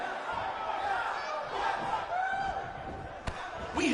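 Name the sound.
crowd cheering in WWE 2K19 video game arena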